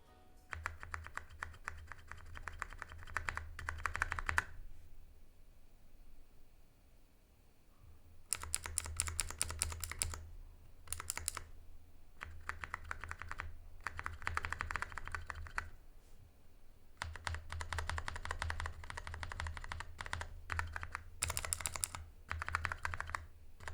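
Bursts of rapid typing on a Razer BlackWidow Chroma V2 mechanical keyboard, crisp clicky keystrokes in several runs separated by short pauses, close and fairly loud.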